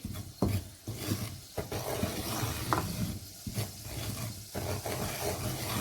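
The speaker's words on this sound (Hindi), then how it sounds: "तो मैं हल्के से इसको सौटे करूँगी।" Dry fruits sauté lightly in a pan for suji halwa, a close rasping stir and gentle sizzle with irregular scrapes and knocks of the spoon running throughout.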